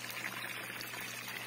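Water pours steadily from a pump outlet into a fish-rearing water tank, a constant splashing rush that stays even and fairly close throughout, with no voices.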